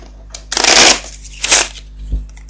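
A deck of playing cards being shuffled up close, a loud riffling burst followed by a shorter second riffle and a soft tap, each crisp and papery against near silence.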